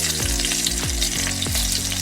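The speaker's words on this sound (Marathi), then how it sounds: "आता 2 चमचे तेल आणि 5-6 लसणीच्या पाकळ्या आहेत या." Garlic cloves sizzle steadily in hot oil while a tempering is prepared for Malvani tomato saar. The frying is loud and continuous, with a few faint tonal sweeps layered over it and no talking.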